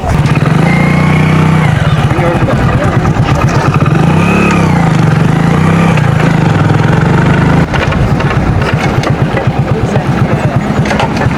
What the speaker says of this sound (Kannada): ಸೊ ಇದು ಆ್ಯಕ್ಚುಲಿ ಹೀರೋ ಹೊಂಡಾ ಫುಲ್ ಓಜಿ ಗಾಡಿ.